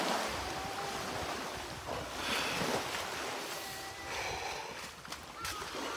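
Sea waves wash onto a shore in steady surging hiss with wind buffeting the microphone, moderately loud and continuous, with no clear talk.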